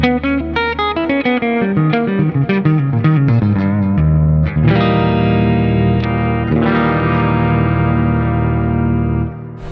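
An electric guitar with a round, thick humbucker neck-pickup tone through a Neural DSP Archetype Plini amp plugin plays a descending arpeggio, then strums sustained distorted chords, loud and close.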